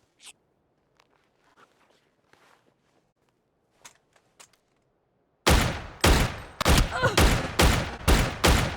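Rapid gunfire from the PUBG video game, a burst of loud, close shots fired in quick succession after several seconds of near silence broken only by faint footsteps and light rustling.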